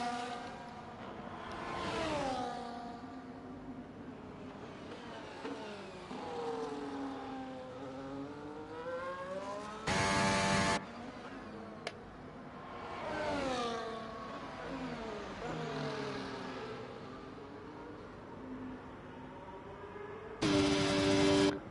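Race cars in the F1 24 video game racing at a league round in the USA, engines droning and swelling as they pass and overtake, with brief louder bursts and no talk over the engines.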